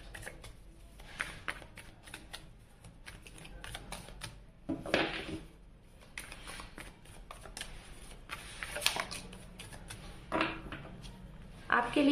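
Tarot cards are shuffled by hand in crisp, riffling bursts and soft slides, close up, in a few clustered flurries with brief pauses between.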